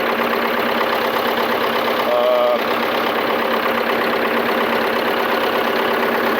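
A John Deere 440 skidder with a 202 cubic inch, 59 horsepower diesel engine idles in a loud, steady, even drone that runs throughout, with no voices.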